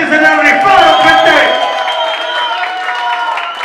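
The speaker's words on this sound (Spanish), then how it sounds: "Un pinche aplauso para todos los cabrones que se le han rifado, gente." Crowd cheering and clapping at a Mexican freestyle rap battle, a loud dense roar of applause with whoops that swells early and then holds steady, with voices shouting over it.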